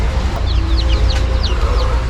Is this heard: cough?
no